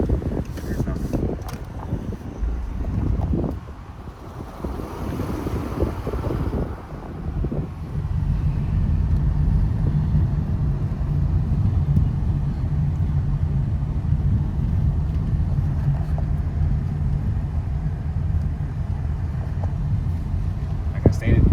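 A 2012 Dodge Charger police interceptor with 118k miles driving: a steady low engine and road rumble that builds as it gets moving, heard from inside the cabin with someone talking over it.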